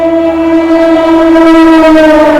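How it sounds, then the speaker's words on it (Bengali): A MEMU train's horn sounds steadily with strong, sustained harmonic tones, loud and close, as it passes, holding for the whole stretch without any talking. "ওই দিক দিয়ে কোনো একটা গাড়ি পাস হচ্ছে"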